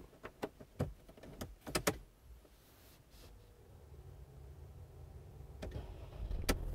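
A 2017 Mercedes-Benz G350d diesel with a luxury package: several sharp interior clicks and thumps, then the engine turns over and settles into a low, rising diesel idle rumble, quiet and close inside the cabin.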